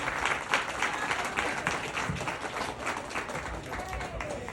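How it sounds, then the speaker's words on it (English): Applause rises from the crowd at a youth steer and heifer livestock show as the reserve champion with a white heifer is announced, a steady, moderately loud clapping that fills the arena ring throughout. "Give her a round of applause."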